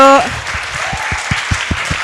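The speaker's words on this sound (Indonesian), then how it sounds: "Tapi tepuk tangan sekali lagi dong." Audience applause at a talk or workshop on family constellation, a crowd clapping steadily after a brief spoken voice at the start, with sharp individual claps standing out in a continuous patter.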